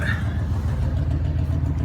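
A 1975 Ford F-150 with a 460 V8 and a massive exhaust leak idles with a steady, deep, throbbing rumble, close and continuous.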